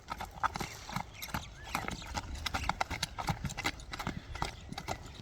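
A five-year-old horse's hooves clip-clop in a quick, uneven rhythm of close, distinct knocks throughout, with no clear speech.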